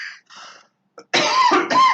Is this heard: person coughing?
yes